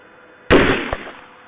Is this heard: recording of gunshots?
yes